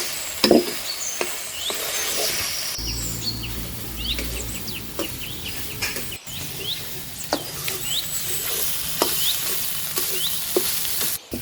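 Dried red chillies hit hot oil in a pan, giving a close, steady crackling sizzle with scattered sharp pops and occasional spoon scrapes, bird chirps faint in the background.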